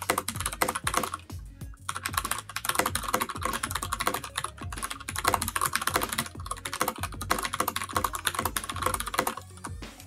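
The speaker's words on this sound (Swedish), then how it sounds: "Och så här låter den här med bruna brytare." Steady, rapid typing on a Ducky mechanical keyboard with brown switches, a continuous close stream of tactile key clacks and thocks with only a brief lull early on.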